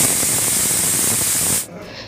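A pressure cooker whistle: a steady, loud hiss of escaping steam runs for over a second, then cuts off abruptly, leaving a quieter background, while cooking jackfruit curry on a gas stove.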